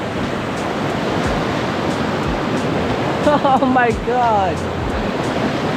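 Fast-flowing river water from a lake rushes steadily on a hike, a loud continuous roar with wind on the microphone, while a person briefly exclaims over it.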